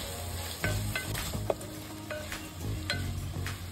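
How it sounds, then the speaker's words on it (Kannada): Onion and green peas fry with salt in a pan for pulao, giving a loud, continuous sizzle with repeated stirring scrapes and clinks of a spoon against the pan. "ಮತ್ತೆಲ್ಲ ಚಲೋದಂಗ ಫ್ರೈ ಮಾಡ್ಕೊಳ್ಳೋಣ"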